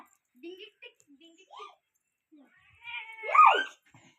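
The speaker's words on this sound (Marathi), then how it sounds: "काळी मांजर का पाळल्या ग एवढी काळी उडी मांजर का आणल्या?" A black cat meows in a few short, rising calls, then lets out one louder, drawn-out wail near the end, close and clear with quiet pauses between.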